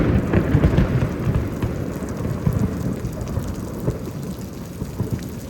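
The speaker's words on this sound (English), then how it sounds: "Oh hey, it's lightning just happened." A thunderstorm in Houston, Texas, with steady heavy rain and low, rolling thunder rumbling close by throughout, with no voices.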